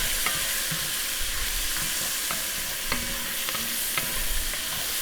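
Chopped onion sizzles in oil in a Dutch oven, with a steady frying hiss beneath a spoon scraping and tapping against the pot at irregular intervals, close and moderately loud.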